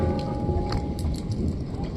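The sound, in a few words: hail falling during a storm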